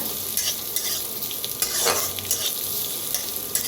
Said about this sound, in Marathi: त्याला मी भाजून थोडंसं तेल ओतून भाजून घेऊया